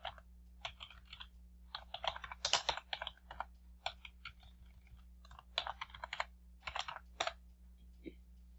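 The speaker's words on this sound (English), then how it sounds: "Here come to text and type in customer feedback." Typing on a computer keyboard while entering text into a form: irregular bursts of close, crisp key clicks with short pauses between runs, steady low hum underneath, no speech.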